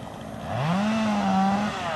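A chainsaw cutting down a tree outdoors, the engine revving up into a sustained buzzing whine that holds and then drops slightly, heard alone at moderate distance.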